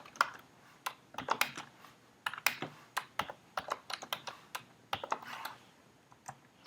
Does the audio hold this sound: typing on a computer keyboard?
yes